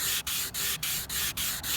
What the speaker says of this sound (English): Using that same sanding block, I'm going to go over it